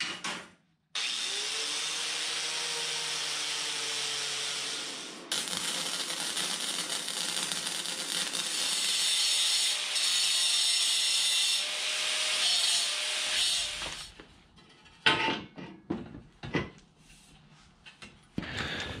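A cheap Harbor Freight angle grinder fitted with a wire brush roars continuously, rising and grinding against steel for a novice's DIY front bumper, then stops into scattered clanks and handling noises.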